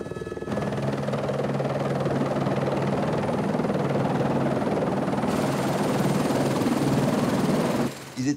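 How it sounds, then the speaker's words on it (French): A helicopter flies close by, its steady thudding rotor and whining turbine holding a constant loud drone for several seconds before cutting off abruptly, with no voices over it. "Pour gagner le bateau, plusieurs rotations d'hélicoptères sont nécessaires."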